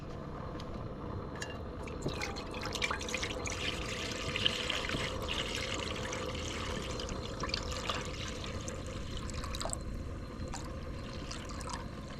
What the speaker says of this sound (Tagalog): Lagyan natin tubig mga kamising. Magpakulo muna tayo ng tubig.